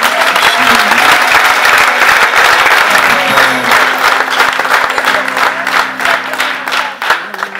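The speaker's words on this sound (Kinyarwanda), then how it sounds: "dukomere Imana yacu amashyi menshi" A church congregation gives a loud, dense round of applause that runs steadily and close by, with a faint sustained tone underneath.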